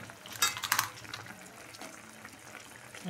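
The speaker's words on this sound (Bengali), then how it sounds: "এখন দিয়ে দিচ্ছি বড়াগুলো।" Lentil fritters being dropped into a pot of simmering gravy, a few wet plops and splashes close by followed by soft bubbling and liquid movement in the pot.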